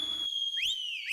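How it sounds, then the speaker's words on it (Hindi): A whistle is blown in sharp shrill toots, a steady high tone broken by two quick rising chirps, loud and close with no talking over it. "सीटी।"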